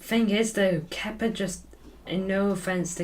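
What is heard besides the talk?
No everyday noises stand out.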